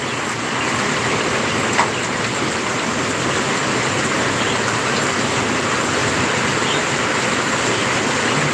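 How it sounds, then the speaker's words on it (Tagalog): Heavy nonstop rain pours during a typhoon, a dense, even roar of falling water that holds steady throughout with no talk. "Lakas na naman. Walang tigil ang ulan."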